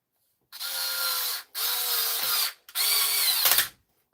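A Makita power drill runs in three separate bursts of about a second each, loud and close, with brief silences between them.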